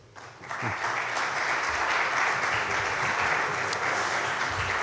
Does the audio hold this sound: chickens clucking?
no